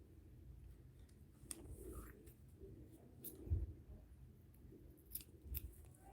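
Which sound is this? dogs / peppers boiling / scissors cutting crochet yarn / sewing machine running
scissors cutting crochet yarn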